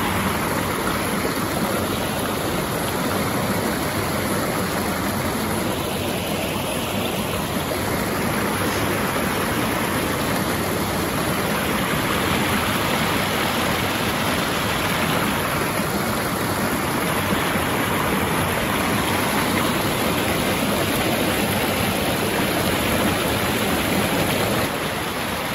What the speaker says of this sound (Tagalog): Lakas pa ng agos,